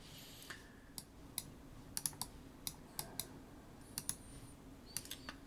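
Computer keyboard keys pressed while working in Rhino 3D software, giving faint, sparse clicks in irregular clusters against a quiet room background.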